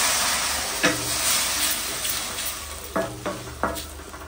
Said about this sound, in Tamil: இப்போ தண்ணி கொஞ்சமா சேர்த்து இந்த வெங்காயத்தை மட்டும் வேக வச்சுக்கலாம்.